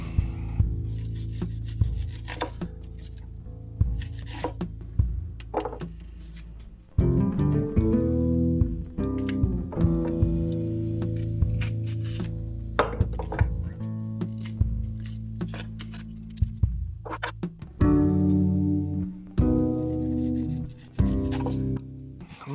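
A SKIF Defender knife cuts and splits an onion on a board, giving repeated dry rubbing and crunching strokes with sharp cracks, close and fairly loud, with no voices.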